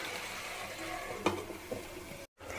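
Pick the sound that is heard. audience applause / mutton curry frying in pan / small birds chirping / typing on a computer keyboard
mutton curry frying in pan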